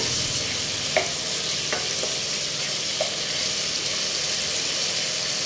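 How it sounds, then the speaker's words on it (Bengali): Potatoes and chicken being stirred together in a hot pan, a continuous soft sizzle broken by a few sharp spoon scrapes and taps, close and without any voices. "আলুটাকে আমি ভালো করে মিক্স করে দিচ্ছি চিকেনের সাথে"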